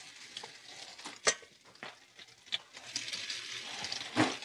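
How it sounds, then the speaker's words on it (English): Close-up sizzling of salmon frying in hot oil, with a crackling hiss broken by occasional sharp pops and utensil scrapes. "You see how it's got a nice sizzle going on right off the bat"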